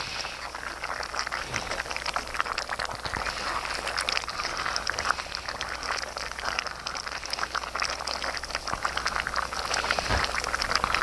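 A pot of red beans and rice, thickened with mashed beans, simmers steadily with a dense, continuous bubbling and popping, close and even throughout, with no talk.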